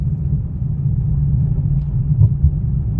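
Steady low engine rumble of a car cruising on a road in fourth gear at modest speed, continuous and close with no revving, heard alone without talk.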